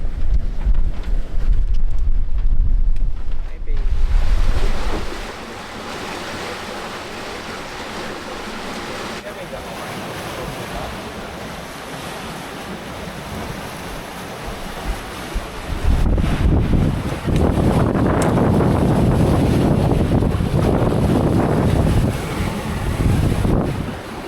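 Wind buffets the microphone on a sailboat heading offshore in the Caribbean, with waves and ocean surge beneath: loud gusty roar at first, easing to a quieter rushing wash, then swelling strongly again near the end.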